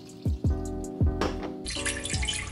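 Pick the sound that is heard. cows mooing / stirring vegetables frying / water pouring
water pouring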